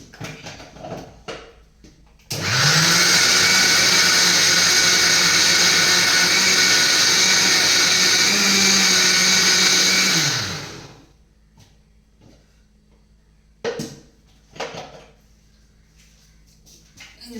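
Electric mixer whipping a banana and egg batter, whirring loudly and steadily for about eight seconds before spinning down, with quieter knocks and handling noises before and after.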